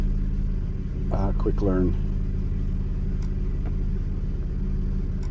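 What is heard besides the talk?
2009 Dodge Nitro engine during road test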